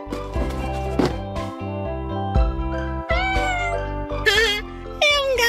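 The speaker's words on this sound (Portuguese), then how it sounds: "É um gatinho." A kitten in a Portuguese-dubbed children's cartoon gives several high, wavering meows over music, rising toward the end.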